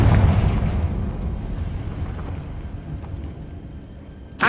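Confringo fire spell exploding in Hogwarts Legacy, one deep boom at the start that rumbles and fades over several seconds, loud and alone with no talk.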